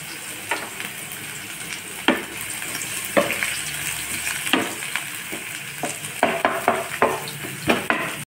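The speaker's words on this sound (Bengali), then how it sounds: "পেঁয়াজটা একটু ভাজা হয়েছে" Chopped onions sizzle in hot oil in a wok at the start of a ridge gourd, potato and prawn curry, a steady close frying hiss broken by repeated scrapes and clinks of stirring, with no talking.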